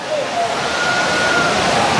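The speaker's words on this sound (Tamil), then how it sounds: "இப்போ வந்து தண்ணி நிறையா கொட்டுதுங்க" Courtallam main waterfall pouring heavily at night, a steady loud broadband rush of falling water that fills the whole clip without a break.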